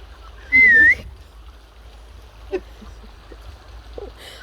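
One brief whistled note rises and falls near the start, followed by quiet with a few faint knocks and rustles.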